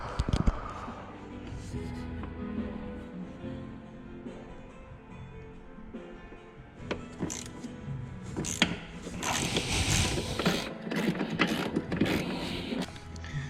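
A ratchet on a long extension works a bolt loose behind a car bumper, with quiet scattered clicking and rattling, then louder metallic knocks and scraping toward the end.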